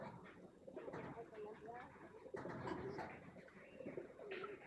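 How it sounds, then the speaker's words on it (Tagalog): Pigeons cooing softly in a quiet setting, low and somewhat distant, with a person talking over them. "Ang unang-una natin papakita, siyempre, ito mga kalapati."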